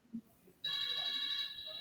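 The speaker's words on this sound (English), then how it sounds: "Someone's phone's ringing." Phone ringing in another room, a steady electronic ringtone that starts abruptly and holds on, faint and distant, with no talk over it.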